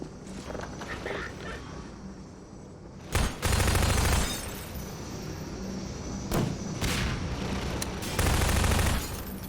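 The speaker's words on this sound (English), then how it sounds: "How did you break that window?" Gunfire shatters a window in the video game Half-Life 2: Lost Coast, with loud bursts of shots and breaking glass, dense game noise throughout and a few faint voices.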